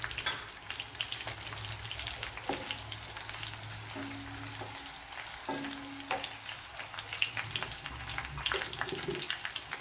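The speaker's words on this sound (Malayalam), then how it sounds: "ഇവിടെ കറി ലീവ്സും വറ്റൽമുളകും ഇട്ടിട്ടുണ്ട്." Curry leaves and dried red chillies sizzle steadily in hot oil for a gooseberry pickle, a continuous close crackle and spatter with small pops scattered throughout.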